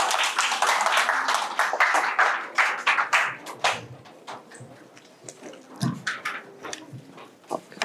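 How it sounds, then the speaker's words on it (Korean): A lecture audience applauds to welcome an astronomer talking about auroras. Lively clapping swells at first, then thins into scattered claps. "박수로 맞이해주세요."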